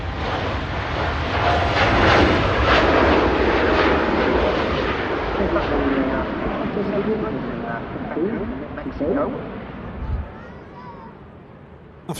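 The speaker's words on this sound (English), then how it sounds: "Off she goes, the TUI Dreamliner." A TUI Boeing 787 Dreamliner taking off from Manchester Airport gives a powerful jet roar that swells early, then fades and thins as it climbs away, with talk over it.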